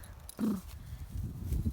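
A stallion being held on a farm during breeding, a short snort followed by low shuffling hoof sounds on the ground, faint and close.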